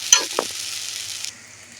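Jackfruit seeds frying in mustard oil, a bright sizzle with a couple of quick stirring knocks at the start, then easing to a softer hiss.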